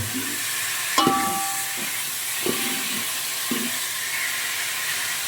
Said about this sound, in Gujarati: ડુંગળી તળવાનું કામકાજ શરૂ છે